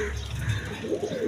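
Pigeons coo close by in a short burst of soft, throaty calls, with nobody speaking.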